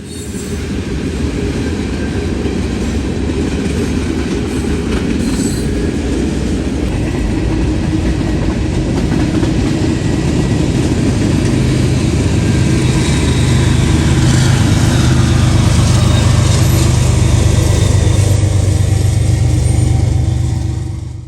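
A Norfolk Southern freight train rolls eastbound at night on an Ohio mainline, a loud, continuous rumble of wheels and cars passing close by with faint squeals and clatter, no voices.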